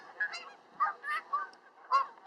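Several geese honk close by at a fishing pond in a quick series of loud, nasal calls with short pauses between them.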